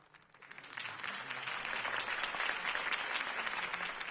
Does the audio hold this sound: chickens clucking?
no